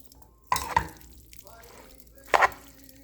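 Food tossed and stirred together in a frying pan while cooking dinner at home, with two distinct scraping, sizzling bursts a couple of seconds apart over a quiet kitchen background.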